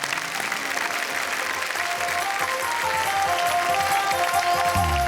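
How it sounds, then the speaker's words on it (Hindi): A theatre audience at a Hindi comedy poetry show applauds loudly and steadily, a dense wash of clapping that holds for several seconds without pause. "जोरदार तालियों के साथ"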